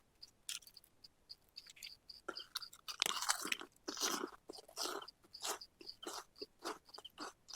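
Freshly made, hot bonda with lemon and onion is chewed close to the mic, giving crisp, rhythmic crunching bites that are clear and loud against near silence, with no talk.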